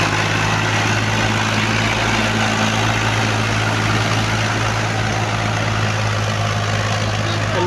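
Massey Ferguson 240 tractor engine idling steadily, a continuous low diesel rumble with an even throb that stays at constant loudness throughout, close by and alone with no speech.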